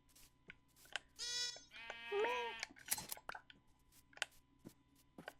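Sheep in the Minecraft video game bleat twice in quick succession, clear and up close, among scattered game clicks and soft footsteps.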